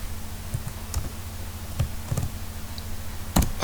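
Scattered keystrokes on a computer keyboard while writing HTML, a few soft clicks spread apart with a quick cluster near the end, close and quiet with no talk.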